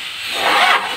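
A 4D56 diesel engine cranks without catching, a steady mechanical churn of the starter that carries at close range for about a second.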